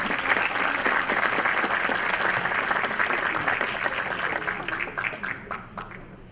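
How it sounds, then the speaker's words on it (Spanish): Strong audience applause at a Central Bank of Ecuador anniversary panel event, dense crowd clapping that runs steadily, then thins into scattered individual claps toward the end. "Un fuerte aplauso, por favor."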